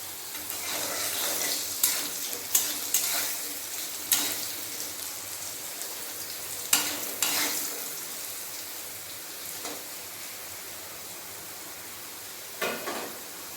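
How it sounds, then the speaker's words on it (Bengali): Potatoes fry in oil in a pan, a soft steady sizzle with occasional sharper crackles and pops, fairly quiet and without speech. "আলু ভাজা ভাজা হয়ে গেছে এর মধ্যে"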